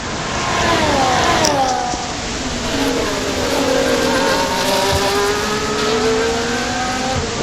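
A Haas and a Ferrari race car battle closely in a racing video game. Engines scream and shift gear continuously, with rising and falling whines that overlap as the cars run side by side.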